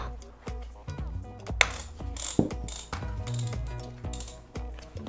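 Ratchet wheel on an Oculus Quest 2 Elite Strap being loosened, giving short clicking mechanical bursts over a low background hum, with a couple of sharper clicks standing out.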